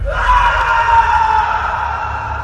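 A man in a horror story yells with full force, one loud sustained shout lasting over two seconds, with a low rumbling background beneath it.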